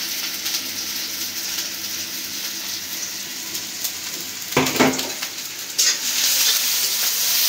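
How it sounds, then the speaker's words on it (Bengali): Sliced onions and round-cut green chillies fry in soybean oil in a pan, a steady loud sizzle with a couple of brief stirring or utensil clatters partway through. "হালকা একটু পেঁয়াজ মরিচটা ভাজা নেব"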